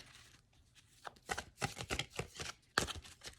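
Tarot cards shuffled by hand on a table, a run of crisp riffling bursts and soft slaps, close and fairly loud against a quiet room, with no talking.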